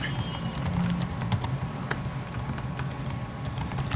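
Someone types ABAP code on a computer keyboard, quick irregular key clicks at close range over a low background hum, with no voices.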